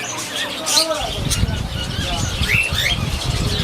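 Doves and other caged birds call at a bird market in Faisalabad, Pakistan, with faint high chirps and tweets scattered through a busy crowd murmur and close talking.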